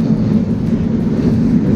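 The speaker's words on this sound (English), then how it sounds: "There's a tram, it's going." A steady low rumble of a passing tram in Vienna, fairly close and constant for the whole stretch, with no voices.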